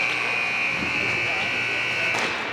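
A buzzer ends a 2010 Bantam AA hockey game between the New Hamburg Huskies and Fox Motors in an arena, a steady loud electronic tone held for a couple of seconds under a noisy rink crowd.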